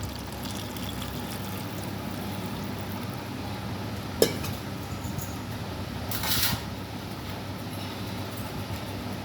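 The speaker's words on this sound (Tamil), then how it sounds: "இப்போ வெந்நீர் ஊற்றிக்கலாம்." Hot water pours into a pot of Thanjavur-style goat trotter paya as a continuous, even rushing hiss, broken by a brief clink and a slightly louder splash partway through.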